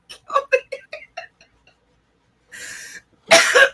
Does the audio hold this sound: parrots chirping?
no